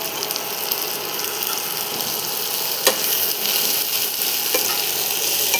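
Ginger garlic paste fries in a pan with okra and potato, a continuous crackling sizzle with a few sharp clicks of stirring, fairly close and with no talking.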